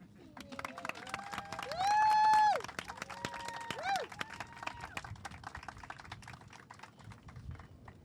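An outdoor crowd at a ribbon-cutting ceremony for beach access mats breaks into scattered clapping and light applause, with someone speaking through a public address system and a brief sustained tone over the claps.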